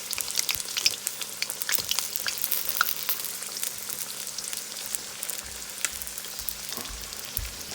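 Chinese takeout-style egg rolls deep-fry in hot grease, giving a steady, crackling sizzle with sharp pops and spatters, close and continuous, with a few low bumps of handling near the end and no talking.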